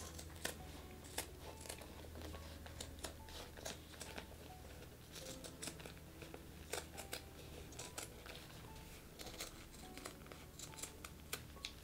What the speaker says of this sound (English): Just make sure that you're trimming both